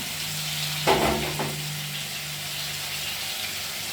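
Small fresh prawns frying in oil in a pan, a continuous soft sizzle with a couple of brief louder spatters near the start, steady and close.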